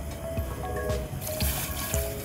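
Water poured into a pot for tandoori chai, a steady close trickle and splash running throughout with a few brief surges.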